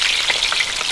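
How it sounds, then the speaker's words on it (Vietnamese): Fish balls fry in hot oil in a home kitchen, giving a steady, dense crackling sizzle that stays close and loud throughout without any voices. "Các cháu ạ, nó xèo xèo rồi."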